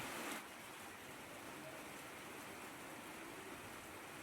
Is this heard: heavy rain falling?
yes